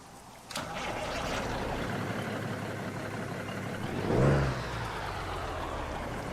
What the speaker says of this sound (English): Let us listen to the engine as we start it up